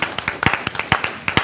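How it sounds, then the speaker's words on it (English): A school board audience claps for REACH scholars, a short burst of distinct, fairly sparse hand claps at an uneven quick rhythm, close and clear. "Let's give another round of applause to our REACH scholars for all their hard work."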